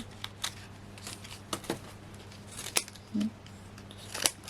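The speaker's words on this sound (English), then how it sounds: "Scissors are not brilliant." Scissors cutting craft paper at a crafting table: several sharp, brief snips and crisp paper crackles at irregular intervals, close by and fairly quiet against a low background hum.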